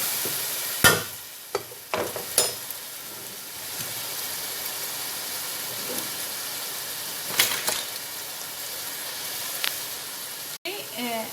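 Sliced onions frying in a pan with curry powder: a constant close sizzle with occasional scraping stirs and clunks of a spoon against the pan.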